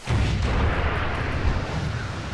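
Rocket explosion in World of Warcraft, a loud, booming blast with a rumbling tail that lingers for about two seconds.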